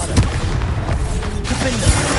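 Bombarda spell explosions in the wizarding game Hogwarts Legacy, a few loud low booms and blasts over busy battle noise, with one strong thump near the start and another near the end.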